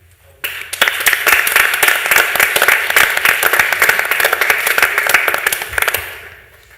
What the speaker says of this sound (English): I think we should give an applause to that guy that has organized the whole thing